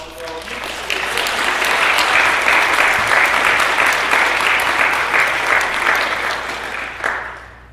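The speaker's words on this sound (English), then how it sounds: "So another round of applause for them, and also for all of you." A debate audience breaks into sustained applause, a dense wash of clapping that swells quickly, holds steady for several seconds, then fades out near the end.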